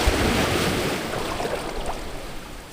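Waves washing onto a rocky beach at Sila Island in San Vicente, Northern Samar, at high tide, a steady close roar of surf and wind noise with no talking.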